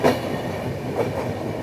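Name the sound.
Secunderabad-Nizamuddin Duronto Express train running through Gwalior Junction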